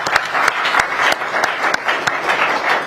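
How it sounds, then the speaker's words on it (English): Audience applause at a China forum, many hands clapping in a lively, even patter with a few sharper individual claps standing out close by, loud and sustained throughout. "let's give a big round of applause for Tsai Xian"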